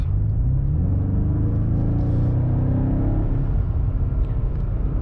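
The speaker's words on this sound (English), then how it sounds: "The car picks up speed so fast and so like effortless." A 2025 BMW M5 accelerates hard, its engine a deep, loud, steady rumble heard from inside the cabin, with the pitch rising smoothly as it picks up speed.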